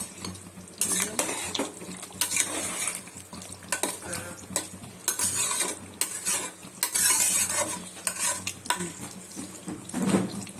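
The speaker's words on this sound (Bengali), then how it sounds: "চিকেন রান্না হচ্ছে।" Chicken cooking in a pan and stirred with a metal utensil, giving repeated close scraping and clinking against the pan over a steady sizzle, with no talk.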